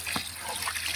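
Water is poured into a vegetable curry, a brief soft trickling splash lasting about a second.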